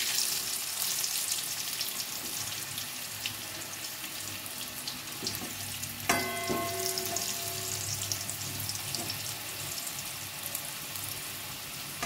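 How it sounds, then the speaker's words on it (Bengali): Raw new potatoes frying in a wok-style pan, giving a steady, moderately loud sizzle with a faint watery hiss and a few light metallic clinks partway through, with no voices. "আমি কাঁচা আলুই ভেজে নিয়েছি ভালো করে"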